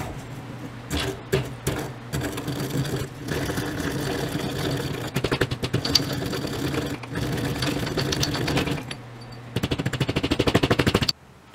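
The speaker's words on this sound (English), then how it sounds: "I crushed up the first batch of powder" Copper chromite powder being crushed makes loud, rapid mechanical rattling in uneven runs, stopping and restarting several times, with no speech.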